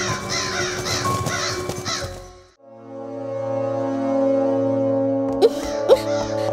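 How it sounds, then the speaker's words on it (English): A black crow caws loudly as a story sound effect, harsh repeated calls up close, followed by a long low foghorn-like tone and then a couple more caws. "Suddenly, a black crow plunged and stole Jamila's precious necklace."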